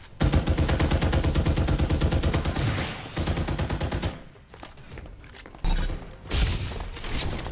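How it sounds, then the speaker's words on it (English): Rapid automatic gunfire rattles in a Farlight 84 match, long bursts of closely spaced shots and a few short pauses between volleys, loud and close. "Firing will commence shortly."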